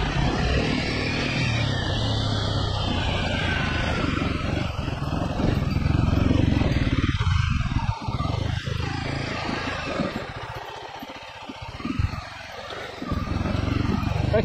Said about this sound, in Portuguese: para andar aqui, para andar com esta moto.